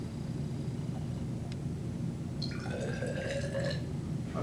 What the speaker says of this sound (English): of deionized water to that and let the salt begin to dissolve in there